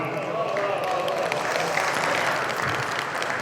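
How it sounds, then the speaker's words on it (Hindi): An audience at a motivational speech claps continuously, a dense wash of applause with a voice faintly audible under it. "तालियां बजाई आपने।"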